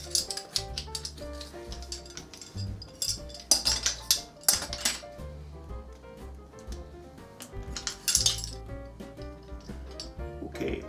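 Small metal measuring spoons clink and rattle against each other and a dish while a teaspoon of salt is measured for gingerbread cookie dough, giving scattered close, bright taps and jingles over faint background noise.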